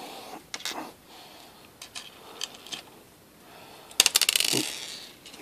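Small metal screws clink and rattle against one another as they are gathered and handled by hand, in several short bursts of tinkling with quiet gaps between, ending in a denser jingle.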